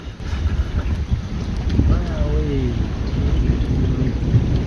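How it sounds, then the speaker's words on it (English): Thunderstorm outdoors by a koi pond, with loud steady rain and a deep rolling rumble of thunder, plus gusty wind buffeting the microphone; no one speaks. "not when it's thundering and lightning like this"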